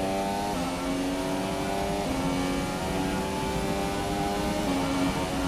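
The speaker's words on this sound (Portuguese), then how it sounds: "Carrinho andando muito, hein, galera, olha" A Formula 1 car from the racing game F1 2017 runs at Monza. The engine holds a loud, continuous high whine that climbs in pitch, drops sharply at several gear shifts and climbs again, with no talking.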